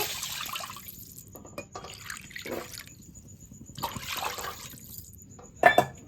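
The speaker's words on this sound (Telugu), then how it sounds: "అదే కడాయిలో ఒక కప్పు సేమియాకి రెండు కప్పులు వాటర్ వేసుకోవాలి" Water is poured into a kadai to cook semiya kesari, heard as a few separate splashing pours and trickles against a quiet kitchen background, ending with a brief clink.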